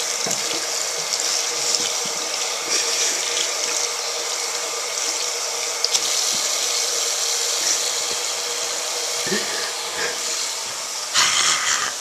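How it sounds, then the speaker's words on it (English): Water runs steadily from a tap into a sink while a hand is washed, a constant close hiss with small splashes and clicks as the stream is disturbed. "Somebody suggested this, that I wash up my hand."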